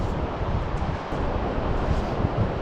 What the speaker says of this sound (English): quite windy, sound at sea